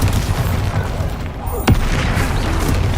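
The Bombarda spell in the video game Hogwarts Legacy goes off as a single sharp boom partway through, heard over a steady rumble of game background noise.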